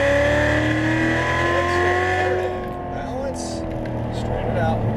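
Sports car engine revving and accelerating around a racing track at an exotic car driving experience, loud and close with rising and falling engine pitch, while an instructor talks over it.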